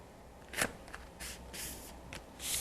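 Soft paper creasing and rustling as paper is folded by hand to make a pencil holder, a few short brushing swipes spaced out, quiet and close with no talk.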